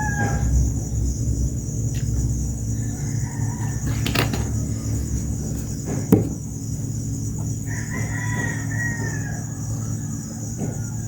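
A rooster crows at a distance while chickens cluck and call around it over steady insect chirring, with a few sharp knocks in the background and no talking.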